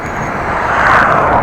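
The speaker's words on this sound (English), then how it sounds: "There are cars whooshing by, or whooshing by." A broad rushing whoosh of cars passing beside a bike lane on the road from Groningen to Appingedam, Netherlands, swells gradually over a second or so, steady and fairly loud, with no voices.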